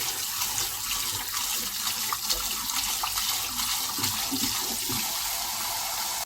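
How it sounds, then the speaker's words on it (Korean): Cold tap water runs steadily while boiled wheat noodles for Busan-style milmyeon are rinsed under it, a continuous close splashing rush with no talk. "면 잘 삶아줬고 찬물에 잘 헹궈서 먹도록 하겠습니다"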